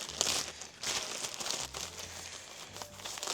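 Crinkling and tearing of a taped parcel as it is cut open with a tool and scissors, irregular close-up rustles and rips without speech.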